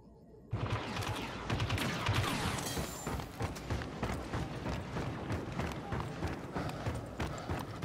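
Blaster fire rattles in a Star Wars Battlefront II match. It starts abruptly after a quiet opening, then becomes a dense, fast barrage of sharp repeated shots that continues loudly throughout.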